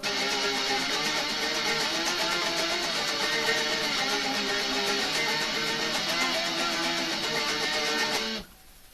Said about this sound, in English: But when you add distortion,